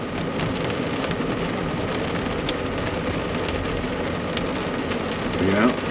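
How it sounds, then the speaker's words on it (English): Hail and rain patter steadily on the roof of a truck camper during a thunderstorm, a dense close clatter of small impacts with faint voices underneath and a brief louder swell near the end. "Yeah, a little bit of hail coming down."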